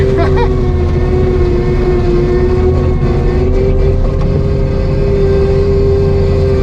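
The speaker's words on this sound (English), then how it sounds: "I think I'll bring the skid steer" Skid steer loader engine runs at a steady loud drone, close by and unbroken, while clearing wisteria on a small lot littered with metal and concrete.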